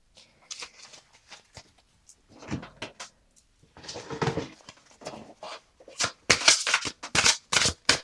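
Tarot cards being handled and drawn, with soft slides and flicks at first, then a denser run of crisp card snaps and shuffles near the end, close and without speech.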